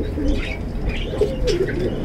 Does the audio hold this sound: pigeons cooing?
yes